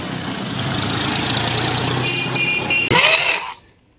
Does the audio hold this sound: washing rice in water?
no